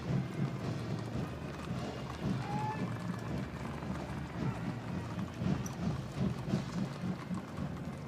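Horses of the 1st Cavalry Division's Horse Cavalry Detachment from Fort Hood, Texas clip-clop along the inauguration grounds. The hoofbeats are steady and moderately distant, with wind and crowd ambience around them.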